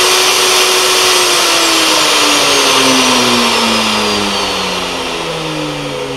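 An Atlas 74 pillar drill fitted with a milling cutter runs at its slowest speed, a loud steady motor whine with a slowly falling tone, alone without talk.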